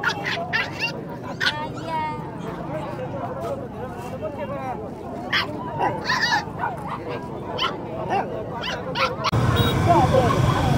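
A dog at the Bac Ha highland market barks, yips and whimpers in repeated bursts amid a busy crowd, with people talking throughout, fowl calling nearby and a louder noisy stretch at the end.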